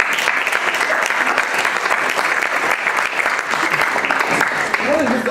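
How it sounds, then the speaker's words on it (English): An audience applauds steadily and loudly throughout, a dense wash of many hands clapping at once, with a voice faintly audible near the end. "Round of applause for our."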